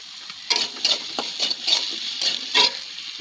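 Potatoes and spices sizzle in hot oil while being stirred, with scraping strokes and crackling bursts close up, no speech.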